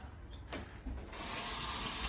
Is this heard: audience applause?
no